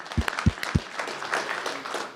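A conference audience applauds briefly, opening with a few sharp, distinct claps before they blur into a short spread of lighter clapping.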